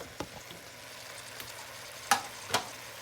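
Chicken stew with carrots, potatoes and green peas bubbles softly in a pot while a spoon gives a few scattered knocks and scrapes, two louder clacks near the end, and no voices.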